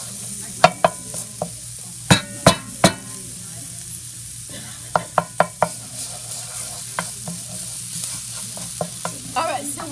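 Garlic cooking in ghee for Egyptian koshari sauce: a soft sizzle runs under sharp, irregular clacks and scrapes of a utensil working the pan, with clusters of quick knocks and a brief stretch of quiet stirring.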